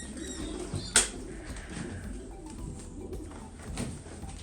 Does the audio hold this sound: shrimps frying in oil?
no